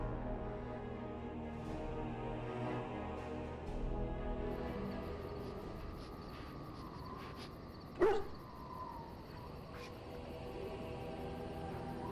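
A dog barks in the fantasy role-playing game Dragon Age: Origins, one sharp bark rising suddenly over a steady ambient game soundscape, with a few faint softer sounds around it.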